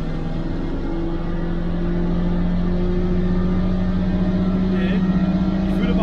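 An old Mercedes-Benz engine runs hard on a dynamometer, a loud, steady drone with a strong low hum that climbs slightly in pitch as revs build, close and continuous throughout with no talk over it.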